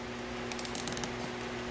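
A quick run of about eight crisp ratcheting clicks as a fastener is cinched tight around a rubber boot on a Ryobi-powered outboard motor build, close and distinct over a quiet background hum.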